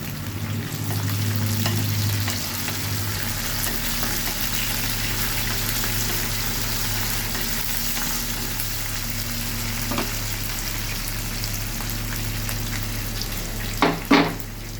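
Green chilli, mint and curry leaves frying in a pan for tomato egg curry, with a continuous crackling sizzle and stirring, plus a low steady hum and a couple of sharp knocks near the end.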